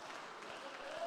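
Church congregation clapping during an evangelical service, a steady dense wash of applause throughout, moderately distant.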